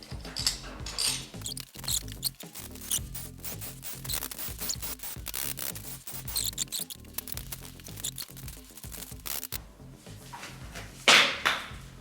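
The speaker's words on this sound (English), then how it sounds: "next step now is using the torque wrench. Setting these to 10 Newton meters" Torque wrench tightening M6 bolts to 10 newton metres on a rebuilt Fiat Scudo 2.0 HDI engine, giving repeated metallic ratcheting and rubbing clicks through a continuous busy stretch, with a brief sharp louder snap near the end.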